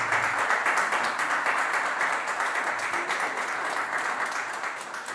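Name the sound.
audience applause as speaker gets on stage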